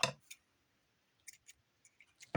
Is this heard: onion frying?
no